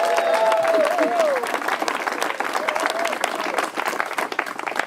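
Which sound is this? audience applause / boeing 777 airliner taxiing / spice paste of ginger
audience applause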